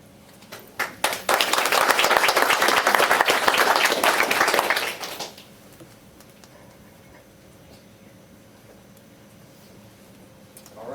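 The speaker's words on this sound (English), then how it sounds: "So let's all give another big round of applause" Applause from an event audience honoring East Region veteran-service grant recipients at a state commission ceremony, a few scattered claps swelling into dense clapping for several seconds before cutting off into quiet room tone.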